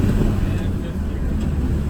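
A 1991 Land Rover Defender 110 with the 200tdi diesel cruising in fifth gear, heard from inside the cab as a steady, close, low engine and road rumble mixed with wind noise.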